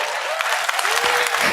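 An audience at a talk breaks into dense, loud applause, many hands clapping continuously throughout.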